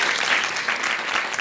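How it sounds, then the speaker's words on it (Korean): Audience applause for a Korean pansori performer at a televised mentoring talk show, a dense, steady wash of many hands clapping throughout, fairly loud and close with no talking over it. "이런 박수 좀 쳐주세요."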